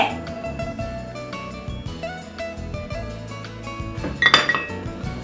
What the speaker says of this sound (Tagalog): haluin natin itong mabuti hanggang sa magsama-sama ang lahat ng mga sangkap